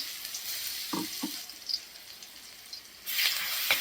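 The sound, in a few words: masala spices frying in hot oil for tempering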